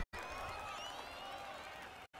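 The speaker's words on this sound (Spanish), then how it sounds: "Den un aplauso a Ryo Aoki" A crowd in the video game Yakuza: Like a Dragon claps and cheers together in a sustained burst of applause, with voices mixed in, then it cuts off abruptly.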